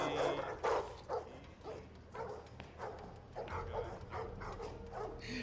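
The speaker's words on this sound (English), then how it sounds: "Yeah, got some guard dogs." Guard dogs bark in a TV show scene: repeated short barks come in a steady series, fairly faint and set in a busy, noisy mix.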